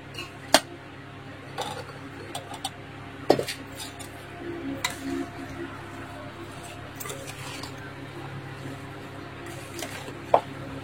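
Mango pickle is stirred in a pot with a spoon, producing soft wet squelching and occasional sharp metallic clinks of utensil on the pot rim, close up and intermittent.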